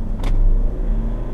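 Mitsubishi Pajero Sport Dakar 4x4 with the 4N15 diesel engine under hard acceleration from around 30, heard from inside the cabin as a loud, steady low engine rumble with a short hissing burst early on and no talk.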